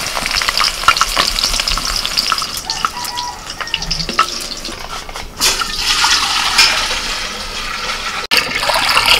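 Aromatics such as ginger, garlic and onion frying together in oil in a pan for egg rice and Hyderabadi dishes, giving a steady, loud sizzle with stirring scrapes throughout, briefly dipping near the end.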